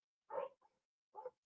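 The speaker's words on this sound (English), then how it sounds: "Sorry for the dog barking." A dog barks twice close by, a short bark with a small follow-up yip and then a second bark about a second later.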